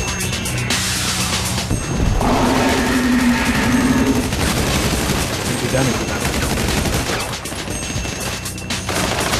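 Rapid rifle and automatic gunfire in GTA V Online adversary-mode gameplay, a dense, loud, continuous barrage of shots with crashes and game effects throughout.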